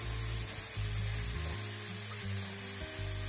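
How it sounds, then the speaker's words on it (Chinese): Leek and pork belly stir-fry in a hot wok, sizzling and hissing steadily and close up throughout, with light music playing underneath. "我们就再炒一会儿"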